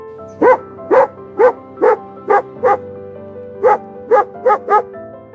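A dog barks ten times in short, loud, evenly spaced yips, pausing briefly midway, close by with no other sound.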